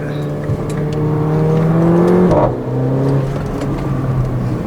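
A 2015 Mercedes-Benz GLA 45 AMG pulls hard in short second gear, the engine note climbing loudly, a quick upshift dip near the middle, then rising again close up inside the cabin.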